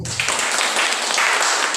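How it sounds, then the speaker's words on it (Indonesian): A burst of applause from teachers at an IT skills training session, dense clapping from a room full of people that holds steady at close range for the brief moment. "Luar biasa, tepuk tangan"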